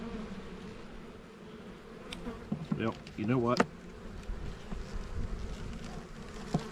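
Honeybees buzzing at an opened hive during an early spring apiary inspection, a steady droning hum with a few louder passes of bees flying close, and a brief remark spoken over it.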